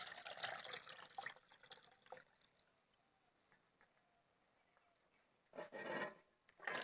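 Sliced raw green bananas being rinsed in water by hand, with bursts of splashing and running water at the start and again near the end, separated by a quieter stretch of faint dripping.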